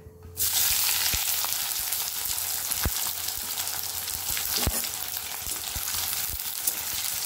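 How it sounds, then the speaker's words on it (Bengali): Onion and chili hit hot oil with a sudden loud sizzle that settles into steady, close frying for a Bengali crispy neem leaf fry, with a few faint clicks of stirring and no voices. "তেল গরম হয়ে গেছে, এখন আমি পেঁয়াজ আর লঙ্কাটা ওর মধ্যে দিয়ে দেবো"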